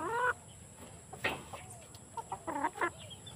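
Pullets, young hens, give several short, faint clucks in scattered bursts, with quiet stretches between them.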